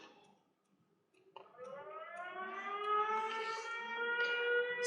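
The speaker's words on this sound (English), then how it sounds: "that's the sound of the air raid siren" A distant air raid siren slowly rises in pitch and swells in volume, holding a long, steady mournful tone.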